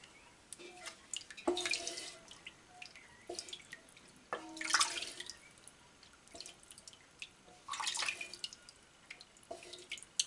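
Whey dripping and splashing from sheep cheese curds being made into Gouda: scattered wet drips and small trickling splashes in irregular bursts, close up, with no talking.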